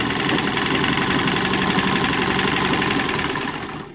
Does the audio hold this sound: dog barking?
no